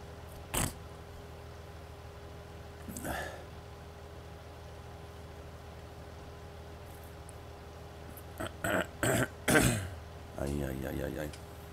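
Several short throat clearings and coughs from a man, one near the start, another a few seconds later, then a cluster of quick harsh bursts near the end, over a faint steady hum.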